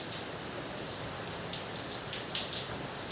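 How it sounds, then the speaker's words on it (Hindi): Steady rain falls on an open home courtyard, a dense, even hiss with scattered splashes of drops striking hard surfaces close by, continuous and alone with no voices. "आज फिर से हमारे तरफ हो रही है बारिश"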